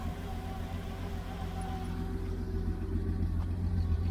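A 1972 Chevy Nova V8 idles steadily after a carburetor rebuild with fresh plugs and old gas drained, a low continuous rumble close by that swells slightly louder toward the end.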